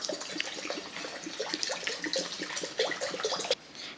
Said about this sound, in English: in that I am pouring about 1 liter of water.